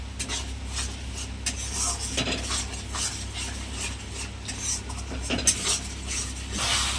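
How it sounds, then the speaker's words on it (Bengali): Spice masala with a little sugar and water being stirred and fried down in a pan for a shrimp and pointed gourd dorma: continuous scraping and rubbing of a spoon against the pan over a soft sizzle, close and steady. "আমি ভালো করে এটাকে কষে নিচ্ছি।"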